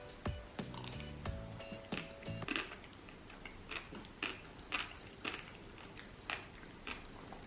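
Close, crisp crunching bites of rehydrated freeze-dried pasta at first, then quieter irregular chewing with soft clicks and squishes, no talking.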